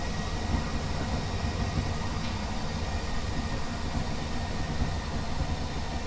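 Steady engine drone from a vehicle in the game Space Engineers, a continuous low rumbling hum with even loudness throughout, no voices over it.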